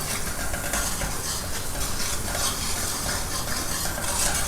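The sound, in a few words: ginger garlic paste and onion masala sautéing in a pan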